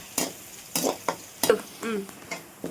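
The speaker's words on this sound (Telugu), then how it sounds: "కొంచెం పచ్చిమిర్చి తరుగు, ఒక్క నిమిషం ఫ్రై చేసుకోవాలి." Chopped green chillies and garlic fry in oil in a pan for street-style paneer fried rice, with repeated rhythmic scraping strokes of stirring over a low sizzle, close to the mic.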